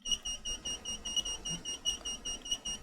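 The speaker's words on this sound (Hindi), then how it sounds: "अभी तो इसे साइलेंट करना है अलार्म को" A GMDSS MF/HF DSC radio console sounds its distress alert alarm for a call on the 8 MHz band: a steady, evenly pulsing high electronic beep, about a dozen pulses, close and clear over a low hum.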